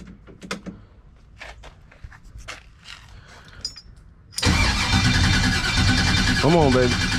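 A 1989 Chevy engine, fitted with a new external fuel pressure regulator, is heard after a stretch of scattered knocks and faint speech. It turns over and catches suddenly, then runs loud and rough near the listener.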